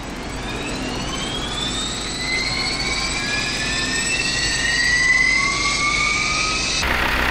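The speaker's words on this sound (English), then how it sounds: "Starting engine number 1." A PMDG Jetstream 41 turboprop engine number 1 spins up in a flight simulator, a steady rising whine with several climbing tones that builds in loudness over several seconds, with no talking.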